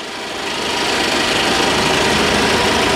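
A 1962 Dodge D300 truck engine idles after 34 years of sitting, a steady, loud, rough broadband running noise that swells over the first second and then holds evenly throughout.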